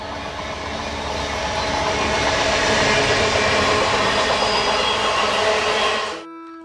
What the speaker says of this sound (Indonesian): Lihat teman-teman. Di sini ada kereta api.